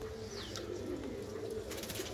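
Madrasi pigeons keep up a low, steady cooing murmur at moderate distance, with a faint rustle toward the end.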